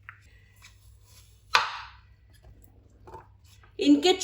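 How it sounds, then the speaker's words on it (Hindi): A knife chops onions into small pieces on a board, giving a few sparse, crisp cuts with quiet pauses in between, then a brief burst of kitchen noise at the end. "इनको छोटे साइज में आपने काट लेना है।"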